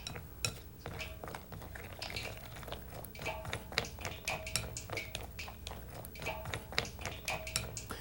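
Whisk folding walnuts into batter in a bowl, giving repeated light clinks and scrapes against the bowl in an uneven stirring rhythm, close and moderately quiet.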